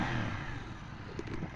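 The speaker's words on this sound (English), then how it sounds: "Listen to that exhaust sound" A 2018 KTM 790 Duke ridden on a UK road, its exhaust giving a steady, close, throaty rumble that swells slightly without pause.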